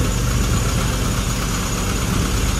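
A classic car engine idles steadily during carburettor tuning at the CMC Riviera Run, giving a loud, continuous rumble with a constant vibration and no pauses or voices.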